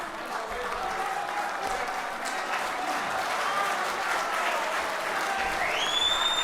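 Audience at a mushaira poetry gathering applauding steadily, a dense close wash of clapping that holds throughout while a voice speaks faintly beneath.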